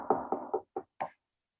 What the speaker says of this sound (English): He goes to the Persian man's door and he knocks.